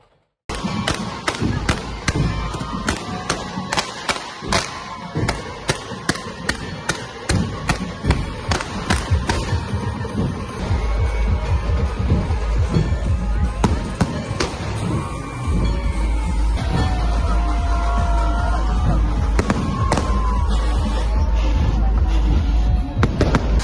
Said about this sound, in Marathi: फटाक्यांची आतिषबाजी करत वाद्यांच्या तालात गणपती बाप्पाचा आगमन सोहळा रंगला